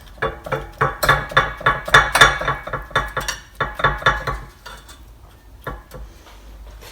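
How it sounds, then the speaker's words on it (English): A tablespoon scraping and tapping against a metal tart tin while filling little blueberry cream tarts, a quick run of bright clinks and knocks that thins out toward the end, no talk. "So you put a heaped tablespoon of mixture in each tart"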